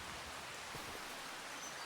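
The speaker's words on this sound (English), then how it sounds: "As the rain just keeps coming in." Steady rain hisses down in the Farming Simulator 25 video game, a dense, even wash of broadband patter that continues without a break and with no talking over it.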